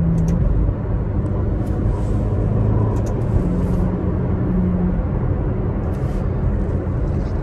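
A Ferrari driving, a steady close engine and road rumble filling the cabin throughout, even and loud with no clear revving peaks.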